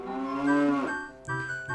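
Cows on a ranch in the video game Zelda: Majora's Mask, one long, loud, close moo that falls in pitch, followed by two shorter moos.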